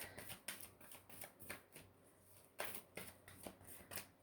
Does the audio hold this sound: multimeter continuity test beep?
no